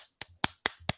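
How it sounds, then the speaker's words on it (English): A hand slapping against a cheek four times in a quick, even rhythm, each smack sharp and close with a faint fleshy thud after it, no voice over the top. "that's me clapping by slapping my own cheek"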